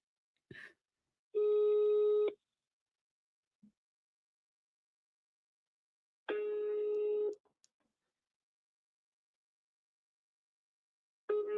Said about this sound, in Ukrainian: Телефонний виклик.